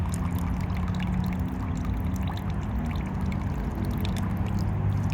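Soapy wash water is poured out of a basin of raw wool, a continuous, fairly loud low rushing and gurgling flow that holds steady throughout, close by and without speech.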